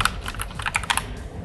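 Keys clatter on a hand-built mechanical keyboard in a quick, uneven run of crisp, close clicks and clacks, with no voices over them.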